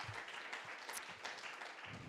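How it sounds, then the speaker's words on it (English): A round of applause at an academic symposium sounds as a brief, faint burst of clapping from the audience, steady for about two seconds. "So can we give them a round of applause"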